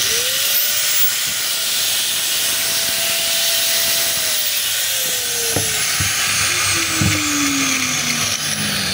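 A DeWalt DW810 4-inch angle grinder, just back from a cord repair, spins up with a rising whine, runs loud and steady at close range, then winds down as the pitch falls away.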